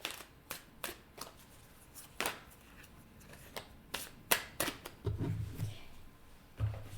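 Tarot cards are shuffled by hand in a string of crisp riffling bursts and soft slaps, some quick and sharp, others longer, near and alone with no voices.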